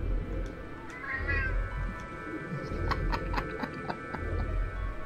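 A cat meows a few times in the background during a video game session, short tonal cries rising over a steady low hum and faint clicks.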